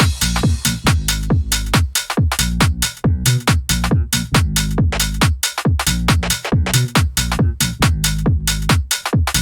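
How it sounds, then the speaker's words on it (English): UK garage beat with a punchy kick, deep bass, shuffling hi-hats and crashes, playing loud and bouncy in a steady, fast rhythm for nearly ten seconds, with no voice over it. "So if we look at the kick, the bass, tops, and the crashes in situ, they sound like this."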